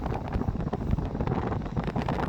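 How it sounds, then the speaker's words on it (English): Strong gusty wind buffets the microphone outdoors in La Mata, Spain, a continuous low roaring rumble with fluctuating gusts filling the whole stretch, no voices. "the wind's picking up now, so I'm not sure if you can hear me or not"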